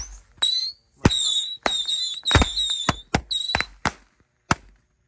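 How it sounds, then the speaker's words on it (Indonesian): A Michelin 16-shot firecracker cake going off at night during Ramadan: a series of sharp, loud bangs with whistling squeals between shots, irregularly spaced over a few seconds, close and without talk. "Lanjut kita nyalakan mercon Michelin 16 shot."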